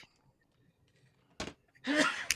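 A short, sharp burst followed by a louder, noisy explosive sneeze with a brief tail, close to the listener after near-silence.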